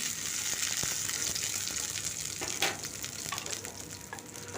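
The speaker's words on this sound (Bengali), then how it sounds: "এদিকে আমি বাকি বড়াগুলো ভেজে নেব।" Mung dal fritters (bora) frying in hot oil, a constant bright sizzle with crackles and a brief louder spatter midway, steady and close, with no voices.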